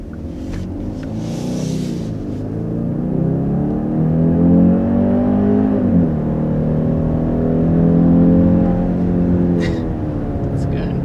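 A 2021 Genesis GV80 engine pulls under acceleration, a steady low rumble that swells and dips as it revs, heard from inside the cabin with someone talking over it.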